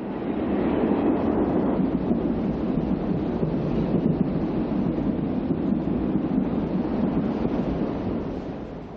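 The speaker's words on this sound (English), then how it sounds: "The westbound California Zephyr meets its eastbound counterpart, number 18, at Lisle," Westbound and eastbound California Zephyr passenger trains, one of them number 18, meet on the line at Lisle, Illinois, a heavy continuous diesel rumble and roar with wind-like noise holding steady, then easing slightly at the end.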